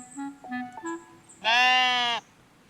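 Sheep bleat in a digital diorama-building video game: a few short, soft bleats followed by one long, loud, wavering bleat, then quiet.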